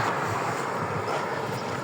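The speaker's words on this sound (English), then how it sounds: "It's very windy, per usual, for Baku." Strong wind roars and buffets the microphone in Baku, a steady broadband rush with no pauses and no voices.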